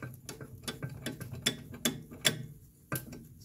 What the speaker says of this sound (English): so that way, I can rotate this and I can cut the threads